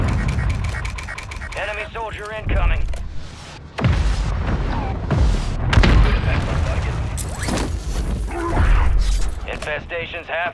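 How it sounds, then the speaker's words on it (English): Mortar strike explosions in Call of Duty Warzone gameplay, heavy booms and rumbling blasts landing repeatedly amid gunfire and clatter, with in-game voices talking over the loud barrage. "Mortar strike on the way."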